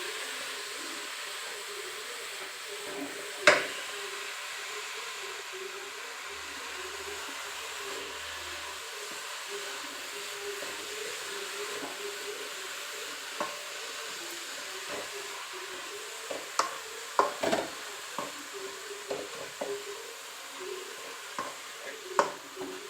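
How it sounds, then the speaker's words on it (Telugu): Food fries in a pan with a steady, soft sizzle and hiss throughout, broken by occasional louder clinks and scrapes of stirring, with no talk. "ఇది బాగా ఫ్రై అవ్వాలి వాళ్ళండి."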